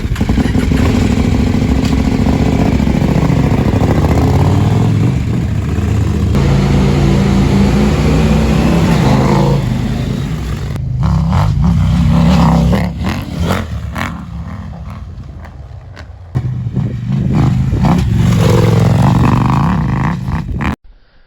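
KTM 890 Adventure R motorcycles on a suspension test ride, engines revving and roaring up and down loudly with rough clattering passes and gear changes, no speech.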